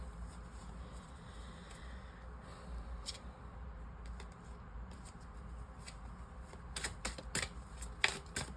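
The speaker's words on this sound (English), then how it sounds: "I'm gonna reshuffle because the bottom of the deck was basically from pile number 2" A tarot card deck is shuffled by hand in quiet, soft riffling and sliding with a few sharper crisp flurries of card snaps near the end, close to the microphone and without speech.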